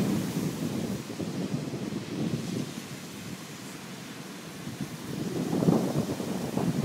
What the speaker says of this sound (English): An idea of the height of some of these waves when you start seeing the people go through them